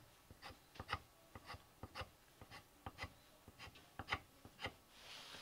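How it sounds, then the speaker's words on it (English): Graphite pencil sketching guide marks onto a wood carving blank for a dragon's head sword stand, heard as a steady series of short scratchy strokes, close up and clear with no voices. "Putting the marks on the wood is almost like a constant, never-ending process"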